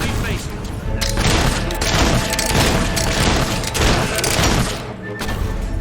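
Battle gunfire from the video game Fable 3 crackles in dense, loud volleys of overlapping shots and booms, with voices faintly mixed in under the din.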